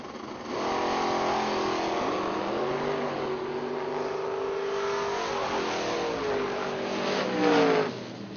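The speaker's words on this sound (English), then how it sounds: "Left side, Conor Grisey in the dragster with a 491 dial" At a drag strip, an S10 and a dragster launch and run down the track, their engines a sustained, loud roar that rises and shifts in pitch over several seconds, peaking near the end before fading slightly.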